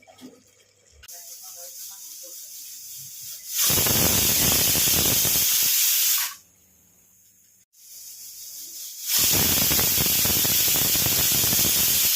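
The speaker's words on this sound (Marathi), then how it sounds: "कुकरच्या आता दोन शिट्ट्या काढून घ्यायच्या" A pressure cooker cooking egg rice lets out two long, loud hissing whistles of steam, separated by a short quieter pause, heard up close.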